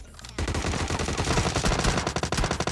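Rapid automatic gunfire in PUBG Mobile bursts in loudly after a brief quiet moment and continues in dense, steady volleys with a few short gaps near the end, no voices.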